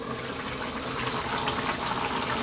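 Tomatoes and green chilies bubble in a covered pot, a faint steady simmer with soft hissing and small pops, no voices.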